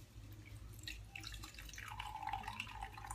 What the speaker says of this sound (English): you are going to pour water into your friend's cup, and then they're going to pour it into yours